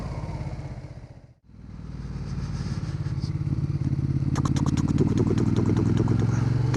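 A 2011 Ducati Diavel Carbon motorcycle engine rumbles close by. It dips briefly, then builds into a loud, steady, throbbing run.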